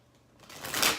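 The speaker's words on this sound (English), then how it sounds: "That was a horrible shuffle. I'm going to do that one more time." Tarot cards being shuffled by hand, a soft papery riffle that builds to a louder burst near the end of a brief moment, with no talking.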